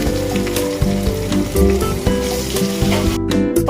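Chopped onions hit hot leftover egg-frying oil already tempered with dried red chillies, cloves, cardamom and cinnamon, giving a loud, steady sizzle with scattered crackles and stirring scrapes throughout.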